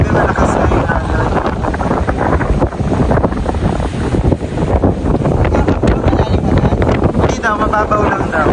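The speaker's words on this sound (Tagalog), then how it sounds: "Grabe malakas na yung alon." Strong sea waves crash at a beach resort shore in San Juan, Laiya, Batangas, a loud continuous rush mixed with heavy wind buffeting the microphone, with voices talking over it throughout.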